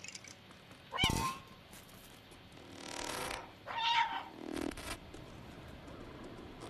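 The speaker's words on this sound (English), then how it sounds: "My cat meow powers the city?" A cat in the video game Stray meows several times, with a sharp close meow near the start and a softer one a few seconds later, set against quiet ambient game sound and no talking.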